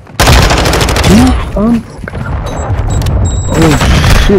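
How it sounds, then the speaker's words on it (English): A cruise missile strike in Modern Warfare 2 lands as a loud, sustained blast of explosive rumble and rapid gunfire, with a voice shouting over the din. "Hostiles launched a cruise missile!"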